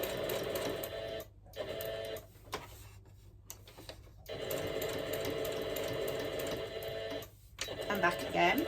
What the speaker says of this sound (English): If I've gone too far, then I'll just reverse a couple of stitches